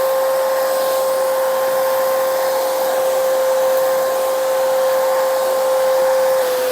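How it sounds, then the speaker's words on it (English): A PAWHAUS pet grooming kit runs with its vacuum and clipper switched on together, giving a loud, steady motorized whine with a constant high-pitched tone that holds unchanged throughout, with no talking. "Turning on the machine and turning on the clipper."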